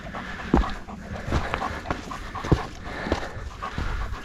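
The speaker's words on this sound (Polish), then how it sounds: "Dobry pies." A dog panting steadily on a mountain hike toward Pilsko peak and Hala Miziowa, close and rhythmic with a few soft whimpers and footstep thumps, no talking.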